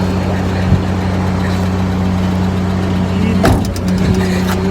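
A car engine idles at a steady low hum, loud and close, with a brief rustle or clunk partway through and no clear talk.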